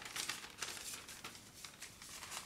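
Paper folded and creased into a small piping cone for melted chocolate, a run of close, crisp crinkles and rustles in irregular bursts, quiet and alone with no voices.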